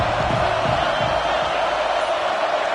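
A stadium crowd roaring in the college football game College Football 26, a continuous loud, dense wash of cheering with no pauses, ongoing throughout.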